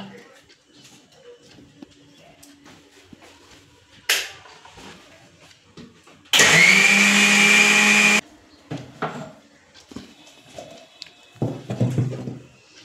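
Soaked lentils with a splash of water are ground to paste in a blender. A loud, steady whirring burst lasts about two seconds, set between quieter clatters and handling noises.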